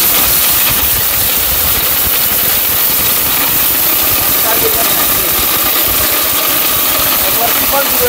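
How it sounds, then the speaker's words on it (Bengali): A 1200-watt Tufan blender runs at full power, a loud, continuous roaring motor whine with harsh noisy texture that stays steady throughout without pause. "এটা সেই ভাইরাল তুফান ব্লেন্ডার, 1200 ওয়াটের।"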